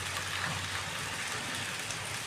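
Light rain drizzling steadily after a heavy downpour, a soft continuous patter of scattered drops close by, with no voices.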